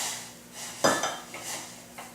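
A hot pan holding a pumpkin pie, grabbed by the handle with an oven glove, gives a sharp metallic clank followed by a few softer knocks and scrapes, close and moderately loud with no voices.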